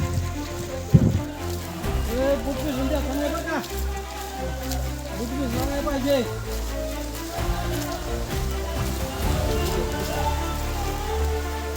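Steady rain patters down on surfaces during a trek from Panhala to Pavankhind while people talk nearby over the constant wet hiss.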